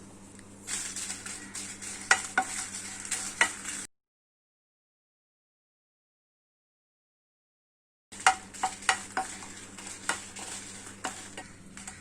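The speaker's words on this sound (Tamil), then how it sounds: "ஹீட் ஆனதும் 10 காஞ்ச மிளகாவை இதில் போட்டு நல்லா ரோஸ்ட் பண்ணிடலாம்." Ten dried red chillies roasting in a hot pan, a light sizzle with sharp scraping and clinks of a spatula, heard in two stretches with a silent gap between them.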